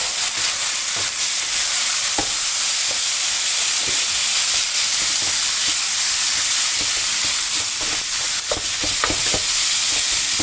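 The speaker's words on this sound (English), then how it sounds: "let's give it a little bit of a stir here" Korean spicy pork belly sizzles loudly in a pan as it is stirred, a dense continuous frying hiss broken by sharp utensil scrapes and clicks, close up with no voices.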